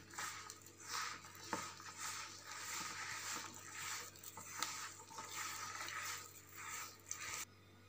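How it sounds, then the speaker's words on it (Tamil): Water poured gradually into maida biscuit dough while it is mixed by hand, giving a steady wet stirring and squelching texture close up, with no talk. "தண்ணி வந்து கொஞ்சம் கொஞ்சமாக ஊற்றிக்கங்க"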